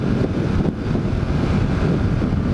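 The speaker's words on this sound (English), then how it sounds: "getting used to that wind again" A steady, loud wind roar rushes past a rider on a 1981 Honda CX500 motorcycle without its fairing during a commute. The noise stays unbroken throughout, with no voices.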